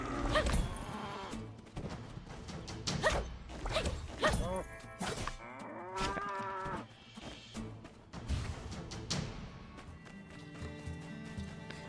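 Cows in the game My Time at Sandrock moo once or twice, mixed with hoof clatter, impact hits and game music in a busy scene.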